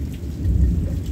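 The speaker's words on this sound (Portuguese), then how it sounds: "Chovendo no nosso sertão para deixar o povo feliz" Rain falling with rolling thunder over the Pernambuco backlands, a steady low rumble and dense patter close by, with no voices.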